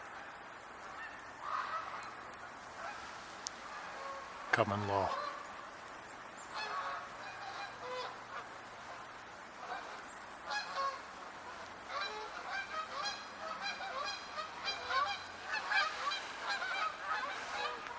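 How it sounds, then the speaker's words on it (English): Geese honk repeatedly overhead, their calls coming and going at a distance, with a brief spoken remark and a low thump partway through, outdoors on a wet road during early first snow. "I'm hearing geese"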